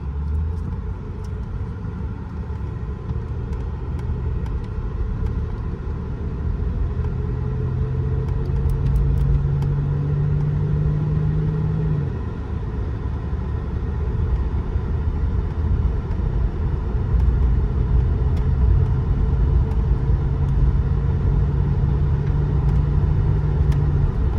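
A 1990 Lincoln Town Car idles steadily at close range, its low engine rumble constant throughout with a slight rise in pitch partway, and no talking.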